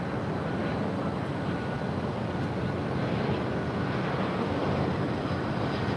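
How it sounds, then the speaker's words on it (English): A Southwest Airlines jet waits to depart at LAX, its engines making a steady broadband roar that fills the air without pause. "There in the background, you're seeing Southwest Airlines Flight 1514 about to depart to Sacramento"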